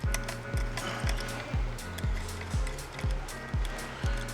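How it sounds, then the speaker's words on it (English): A 10mm ratcheting wrench loosening the tail light reflector nut on an SG250 motorcycle, a steady series of about nine evenly spaced ratchet strokes, close up and alone. "Loosen the nut."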